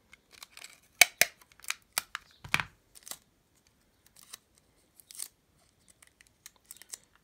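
Adhesive tape being pulled off a roll and pressed onto a paper plate for a craft fish, a series of short crisp ripping and tapping sounds with quiet gaps between them.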